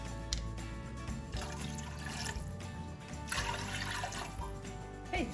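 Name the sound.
cup of water poured into sauce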